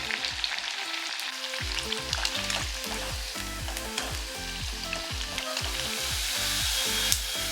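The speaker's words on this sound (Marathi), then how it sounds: "आता आपण अशाच पद्धतीने सगळे साबुदाणे वडे तळून घेऊया" Sabudana vadas deep frying in hot oil over medium heat make a steady, dense crackling sizzle that carries on throughout, close and fairly loud, with no voices.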